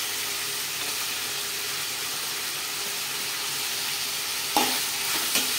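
Tomato, onion and curry leaves sauté in a pan with a loud, steady broadband sizzle and hiss throughout, plus a couple of sharp clinks from a utensil near the end.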